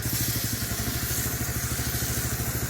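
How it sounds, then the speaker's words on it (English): A MoFlo softwash system's pump engine running near half throttle as its clutch engages, a loud, close, rapid thumping pulse of an engine that holds steady throughout. "Now I'm going to pull the trigger, watch the clutch engage."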